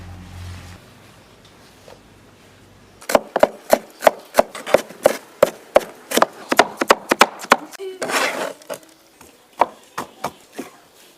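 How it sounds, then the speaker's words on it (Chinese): Chili peppers being chopped with a knife on a board, a fast run of sharp, close, rhythmic chops with a short pause partway, after a quiet lead-in with faint voices. "其他辣子剁碎炒酱。"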